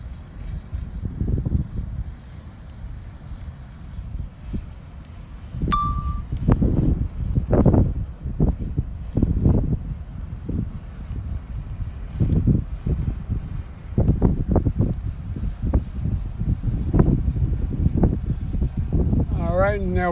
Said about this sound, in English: now we're getting a few good wind gusts here